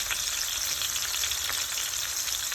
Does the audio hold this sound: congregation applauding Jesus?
no